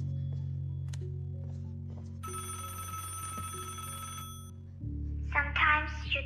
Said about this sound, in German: Telefon, ich komm schon.